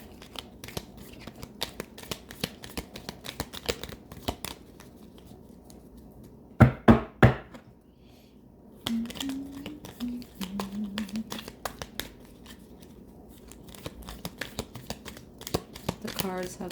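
Oracle cards being shuffled by hand, a soft papery riffling and flicking that runs in bursts through the clip, with a few sharper snaps near the middle and someone talking over parts of it.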